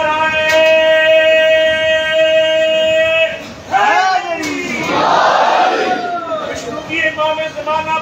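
Crowd at a Muharram majlis chanting religious slogans in unison, loud massed voices rising in waves after a sustained sung tone, with overlapping shouts and chant lines.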